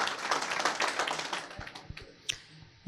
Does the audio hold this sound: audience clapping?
yes